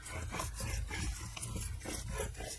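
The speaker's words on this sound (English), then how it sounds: "Just burnish that. Re-burnish that." Glued paper in a journal being burnished, a quiet, continuous rubbing and scraping with repeated strokes, close and soft, with no voices.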